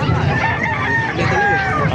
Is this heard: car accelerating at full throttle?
no